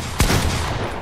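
Gunfire in a shooting video game, one sharp close shot standing out above a dense, noisy battle background with no talk.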